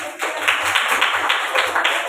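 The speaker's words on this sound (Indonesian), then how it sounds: "Oke, tepuk tangan dulu." A classroom of students clapping hands together on cue, a brief, fairly rhythmic burst of many claps with a regular pulse, close and lively.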